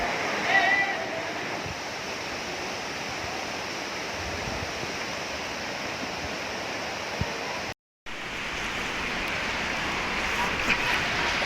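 Floodwater from a flash flood rushes down a river in Bener Meriah, Aceh, as a loud, continuous roar of churning water. The roar is interrupted only by a brief cut partway through, and no voices are heard.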